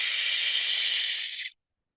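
A sharp, steady exhaled hiss through the mouth imitating a pressure cooker whistle during a breathing exercise, loud and close, held for about a second and a half before cutting off into silence.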